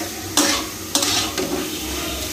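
Egg and tomato fry in a pan, with a steady close sizzle and a few sharp clinks as a utensil stirs against the pan.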